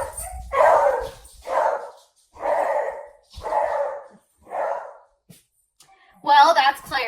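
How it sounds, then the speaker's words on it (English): A beagle indoors gives five or six separate barks and bays in a slow series, each about half a second long with pauses between, fairly close and moderately loud, ending in a higher whining yelp. "So just in case you're curious, he's a beagle."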